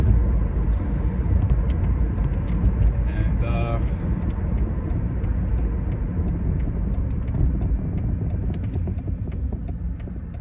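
A car drives along a road with a constant low engine and tyre rumble heard from inside the cabin, steady and fairly loud throughout, with a brief faint tonal chirp early on.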